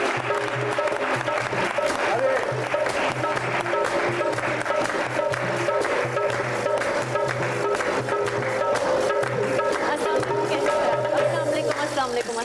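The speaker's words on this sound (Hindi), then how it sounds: "चलिए फिर आपकी मुलाकात करवाते हैं मानी साहब और हिरा साहिबा से। बहुत सारी तालियों में।" A studio audience claps steadily as guests are welcomed onto a comedy talk show. The dense, sustained applause runs throughout at an even level, with music audible underneath.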